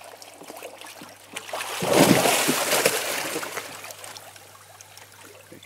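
Water is poured out of a koi bowl, a broad splashing swell that rises around two seconds and tapers off as the flow eases, fairly close and moderate in level, with no talk over it.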